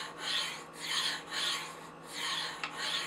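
A steel knife blade rasps against a Spyderco Sharpmaker ceramic stone in five even, repeated strokes, close and clear with no talking.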